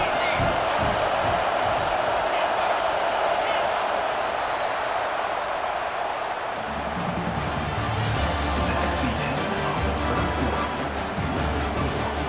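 Stadium crowd in EA Sports College Football 26, a constant loud roar of cheering and whooping that swells slightly, with commentary over it.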